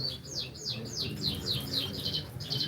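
Canaries at a Bursa canary auction chirp close by in a quick series of bright, repeated trills over a low murmur of room noise.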